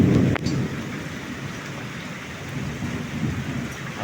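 Heavy wind-driven rain pours steadily during a storm by coconut trees near a house, with a loud thunder crack at the start and then a dense, constant roar of rain and rolling rumble with no talk.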